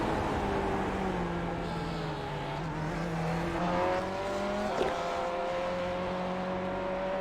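Race car engines from a sim racing game at Barber Motorsports Park, steady high-pitched droning that rises and falls through gear shifts as cars run close together, with no talk over it.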